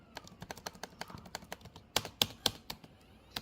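Keys clatter in a quick, uneven run on an HP Pavilion G6 laptop keyboard. The rapid taps are close but soft, with a few louder strokes near the end and no talk.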